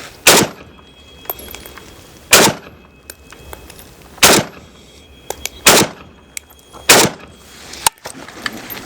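A Riley Defense RAK-47 rifle in 7.62x39 fires at steel targets, with five loud sharp shots spaced about two seconds apart and faint metallic pings between them.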